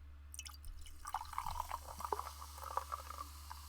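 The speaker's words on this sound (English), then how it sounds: "Do you want to hear the pouring?" Pepsi poured into a glass, with close, fizzy bubbling and splashing that builds after a brief start and continues steadily over a low background hum.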